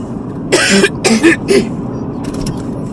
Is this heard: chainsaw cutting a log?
no